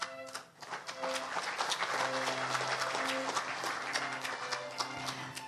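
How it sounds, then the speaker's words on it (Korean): An audience at an academic award ceremony applauds the jury members, with dense steady clapping from a large hall that swells quickly and keeps going. "그간 공정한 심사를 해주신 심사위원 여러분들께 다시 한번 큰 박수 부탁드립니다"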